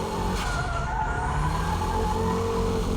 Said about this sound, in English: Braking drift is controlled by the braking power, your braking touch